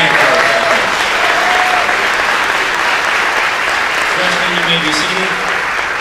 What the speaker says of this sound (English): Let's have a hand clap.